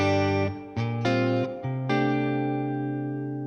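Electric guitar chords played through the vibrato channel of a Fender Deluxe Reverb 1965 Reissue amp ring out loudly, several strums changing chords before the last one sustains and slowly fades.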